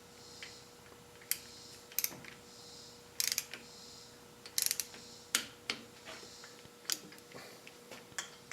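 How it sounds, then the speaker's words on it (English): A torque wrench ratchets in short, irregular clicks while tightening spark plugs on a Harley-Davidson motorcycle, close and fairly quiet, with small pauses between bursts and a faint steady hum beneath. "take your torque wrench set for 15 foot-pounds and tighten them up"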